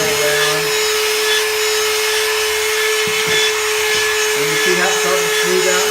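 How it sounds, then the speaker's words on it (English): A power drill with a paddle churns joint compound mixed with water in a bucket, running as a loud, steady whine with a strong constant hum, with scraping and knocking as the drill is moved around. "You move this drill around."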